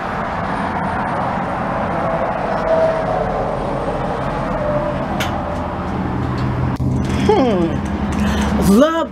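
Highway traffic passing close to a newly built double-wide manufactured home, heard as a steady, loud road roar with swells from passing vehicles, under a voice talking near the end.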